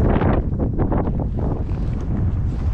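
Strong wind on Iceland's Reykjanes coast buffets the microphone in a loud, continuous roar with gusty surges and no voices.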